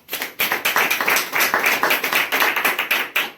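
A small group claps loudly and close by in a fast, rhythmic pattern of repeated bursts, with no talking over it.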